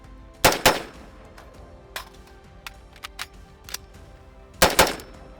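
A Radical Defense MK1 Patrol Mod1 rifle fires loud, sharp shots: a quick pair, then a few scattered fainter reports, and another close pair at the end, with no voices.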